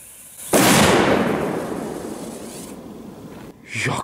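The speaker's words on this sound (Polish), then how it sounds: "ta petarda walnęła jak niektóre lepsze 4 albo 3 gramówki nawet" A Dextrin Pyrotechnics Thunder Master 2 FD3 firecracker goes off with one loud, sharp bang close by, its echo rolling away over a few seconds before a brief burst of other noise at the end.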